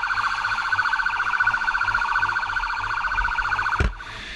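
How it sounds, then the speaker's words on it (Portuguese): Police motorcycle sirens wail steadily during a chase through busy São Paulo streets, a loud continuous warbling tone over traffic rumble that cuts off abruptly with a brief thump near the end. "Com as sirenes ligadas, os policiais abrem caminho."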